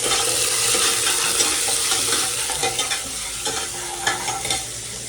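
Native country garlic sizzling and frying in a pan with steady stirring, a continuous bright hiss with small scraping knocks throughout, close and fairly loud, no voices.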